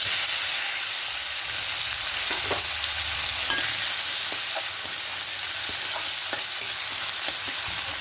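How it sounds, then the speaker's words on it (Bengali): Chopped onion and tomato fry in oil with black cumin in a pan, giving a steady loud hiss and sizzle with occasional soft scraping taps of a stirring spoon, close and continuous, with no talking. "এবার আরও একটু ভালো করে কষিয়ে নেব পেঁয়াজটা একটু নরম হয়ে যাওয়া পর্যন্ত"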